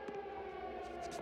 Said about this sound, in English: Now turn off that air raid siren before... the whole town's gone nuts.